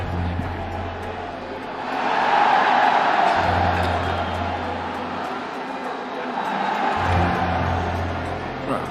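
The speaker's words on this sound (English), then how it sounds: "I love when we get the camera shots, we hear that crowd" Crowd at the IEM Rio 2022 Counter-Strike Challenger Stage match swells into a broad roar of cheering, rising, dipping and rising again, with a low mechanical hum underneath.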